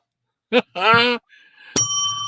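A bell rings once sharply and then sustains a ringing tone, following a brief stretch of voice-like sounds that come just before it.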